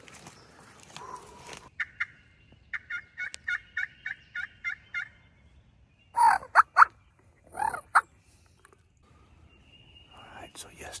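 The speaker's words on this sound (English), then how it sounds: "Probably 8 to 15 birds back there gobbling." A flock of roughly 8 to 15 wild turkeys gobbles from far off over the ridges, with bursts of distant gobbling among quieter rhythmic calls. A person whispers between the calls.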